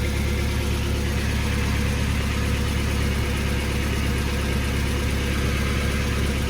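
A Mazda Miata engine idles loudly and steadily up close, a constant low rumble throughout with no break.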